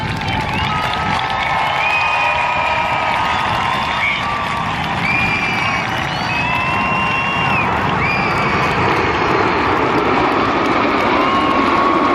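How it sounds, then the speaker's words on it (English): A large outdoor crowd at a Red Arrows aerobatic air display claps and cheers steadily, with shrill whistles and children's shouts rising above the continuous applause. "When the red smoke comes on, give us that big clap and cheer."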